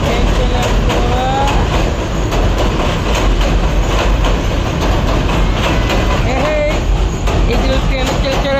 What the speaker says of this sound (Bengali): ঈদুল ট্রেন চলে আসছে, ঈদুল ট্রেন দেখলো।